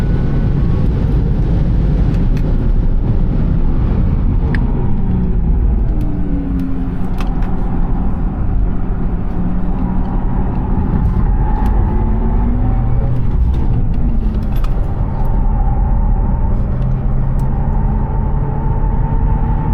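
A Porsche Taycan electric car lapping Silverstone, a loud continuous whirring drive and road roar from inside the cabin with shifting motor whine as speed changes, no talk heard.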